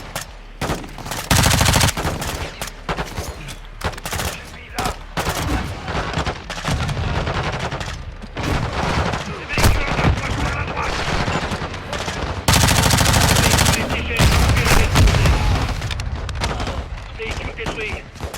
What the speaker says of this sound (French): Mes hommes ont besoin de tirs de couverture.